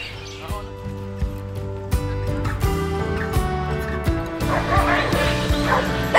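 Stray dogs at a pier in Koh Samui, Thailand, bark in repeated sharp yips and woofs, some whimpering mixed in, close and fairly loud over steady background noise with people talking.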